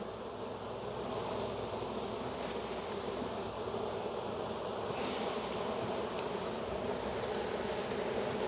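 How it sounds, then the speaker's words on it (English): Many honey bees buzz around a massive hive during an April inspection, a dense, steady drone of wings close by and alone without speech. "there's so many bees"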